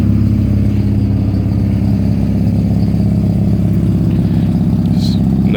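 A 1985 Mazda RX-7 GSL-SE rotary engine idles, a steady loud close burbling drone with a fast even low pulse and no talking.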